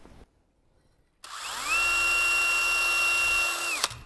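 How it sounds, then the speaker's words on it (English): A small electric drill whirs up to a steady high-pitched whine, runs for about two seconds, then winds down. It is close and loud, with no talk. "I'm going to try using that little drill"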